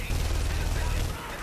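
Rapid gunfire in the video game The Saboteur, a short burst of dense repeated shots heard fairly loud for about a second before easing off.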